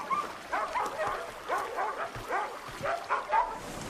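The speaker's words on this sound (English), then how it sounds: "Dog's missed you." A dog gives a run of short, yelping barks and whimpers at moderate distance, roughly six bursts in an uneven rhythm over a quiet rural indoor background.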